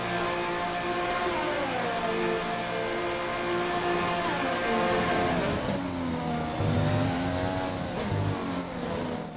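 High-revving Formula 1 car engine from F1 2020 screams continuously, with pitch sweeping down and up through gear changes and a brief tire squeal, loud and with no talking.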